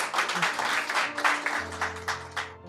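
Scattered clapping from a small audience at a Hindi-Urdu poetry recital, a few uneven bursts of hands with a low hum underneath.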